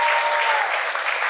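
Audience applause at a comedy special, honoring a couple married 23 years: a steady, dense wash of clapping from a crowd, loud and close, filling the whole moment without a break.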